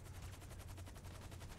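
Rapid automatic gunfire in the GTA 5 Online video game, a fast even rattle of shots repeating throughout, quiet and distant-sounding with no talking.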